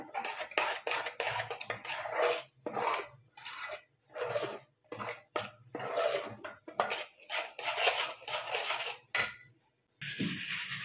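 Uttapam batter being mixed with salt in a bowl, a spoon scraping and swishing against the sides in quick rhythmic bursts separated by short pauses, close and fairly quiet, no speech.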